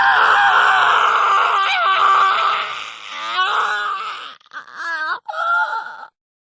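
A character in the Steins;Gate video game screams in pain: a loud, sustained, wavering cry that runs for several seconds before breaking into shorter strained bursts and fading out.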